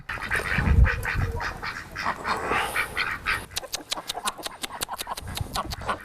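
Ducks quacking at feeding time at a family home in Ingushetia, a busy cluster of close, loud honking quacks that thins into rapid, sharp repeated calls toward the end.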